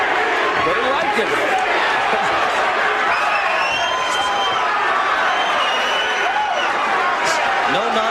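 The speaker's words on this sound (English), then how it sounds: "Crowd chanting his name" Boxing crowd at Eric Butterbean Esch's knockout fight against Joe Wiggins, a dense, loud roar of many voices chanting and cheering continuously throughout, with a commentator talking over it.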